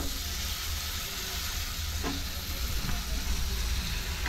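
Soaked chana dal is stir-fried in a pan with seasonings for a padwal and chana dal dish, producing a steady, dense sizzle with occasional scraping stirs, close and continuous.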